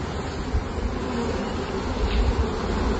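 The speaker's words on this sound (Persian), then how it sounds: "الان تو این همه زنبور رو جمع کردم دستم" A swarm of bees crawls over a hand, giving off a dense, continuous buzz held close to the microphone that swells slightly toward the end.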